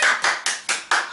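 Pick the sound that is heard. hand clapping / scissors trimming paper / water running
hand clapping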